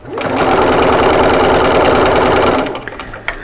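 A sewing machine runs steadily while stitching a seam on a drawstring bag, a continuous close whir lasting about two and a half seconds before stopping, followed by a couple of small handling clicks.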